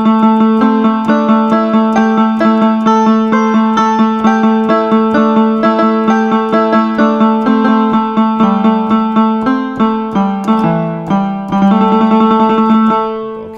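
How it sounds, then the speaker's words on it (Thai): A plucked Thai phin lute voice on an electronic keyboard, with sustain on, picks a quick repeating melody, each note ringing out, loud and steady throughout. "อันนี้เป็นเสียงพินนะครับเสียงพิน"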